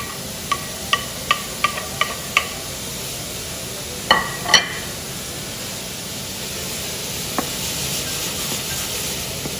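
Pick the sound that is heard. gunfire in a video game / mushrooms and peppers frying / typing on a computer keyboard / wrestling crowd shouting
mushrooms and peppers frying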